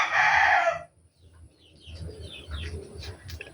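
A rooster crows loudly nearby on a farm, then quieter bird calls and soft outdoor rustling follow.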